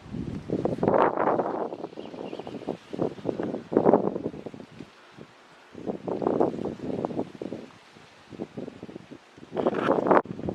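Wind buffeting an uncovered microphone outdoors in a home garden among eggplant plants, coming in loud rumbling gusts with short lulls between them and no talking.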